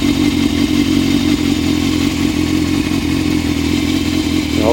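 1998 Yamaha Thundercat YZF600R four-cylinder motorcycle idling on choke in neutral, a loud, steady, close engine rumble at raised idle with a slight rev rise near the end, no talking.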